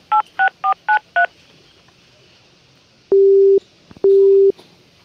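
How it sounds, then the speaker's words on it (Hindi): Phone keypad tones dial a number in five quick beeps, then two long steady tones follow as the call fails to connect because the phone is switched off. "फोन बंद आ रहा। फिर से ड्राइवर।"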